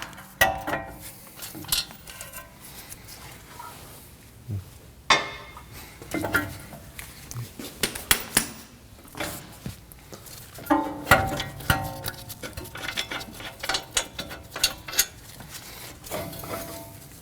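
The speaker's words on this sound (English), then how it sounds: "We have two 19mm bolts on the back side of the knuckle. We can go ahead and remove those." Two 19mm bolts are taken off the steering knuckle of a 2016-2022 Honda Pilot, with close metallic clanks, tool clicks and ratcheting in scattered bursts over faint background noise.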